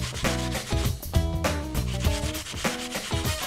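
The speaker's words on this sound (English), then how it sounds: "Take a cheese grater and hold the apple from the both sides and start grating." Apple grated by hand on a cheese grater, a quick series of rhythmic rasping strokes, close and fairly loud, with brief pauses between passes.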